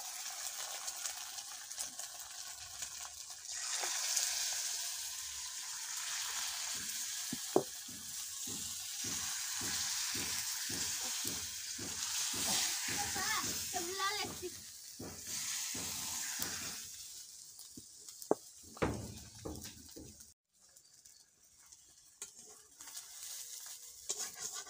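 Egg fritters (dim bora) frying in oil in a pan, a steady loud sizzle with repeated stirring scrapes and clacks of a utensil against the pan, then quieter bubbling toward the end.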